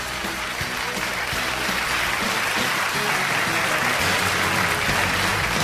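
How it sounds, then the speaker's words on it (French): A large audience applauds continuously at a televised school quiz contest, a loud and even wash of clapping with faint crowd noise underneath. "On les applaudit bien fort."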